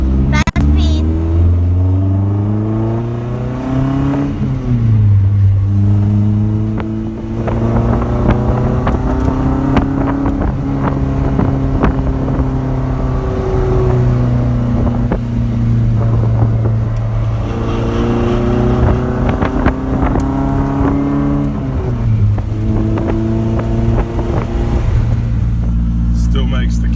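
A 1989 Nissan 240SX drift car with a new exhaust drives fast, its engine note climbing through the revs and dropping at each gear change, with sharp exhaust crackles and pops over steady wind rush.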